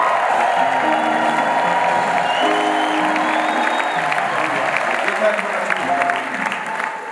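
A crowd at a pastors conference in Ethiopia claps and ululates loudly throughout, with steady applause and high trilling cries over it, fading slightly toward the end.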